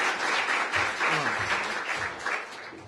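An audience at a partnership launch event applauds to welcome a speaker, a steady wash of many hands clapping in a room, fairly loud and continuous with a few voices underneath.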